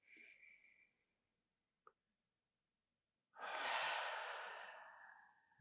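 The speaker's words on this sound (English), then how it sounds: "And breathe." Slow, deep breathing during a guided meditation: a soft exhale, a small click, then a long, loud, close inhale swelling and fading, with no talking.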